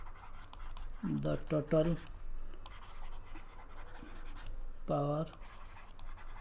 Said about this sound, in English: Let us write it here.